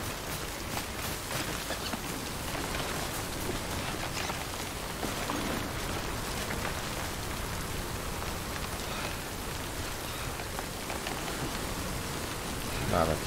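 Steady rain pours down in a video game, a dense, even hiss of drops that holds at the same level throughout without pause.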